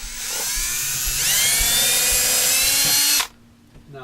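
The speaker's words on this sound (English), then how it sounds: "We will see if we can screw it into the wood now." A small drill fitted with a bit from a 50-piece set drives a screw into wood, giving a loud, steady high whine that rises slightly in pitch for about three seconds and then stops abruptly.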